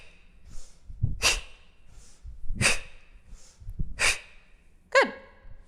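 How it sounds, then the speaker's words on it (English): Forceful breaths during kettlebell swings: a sharp inhale through the nose followed by an explosive exhale through the mouth, repeated four times in a steady rhythm, close and clear. "I breathe in through my nose, and when it explodes up, I breathe out through my mouth."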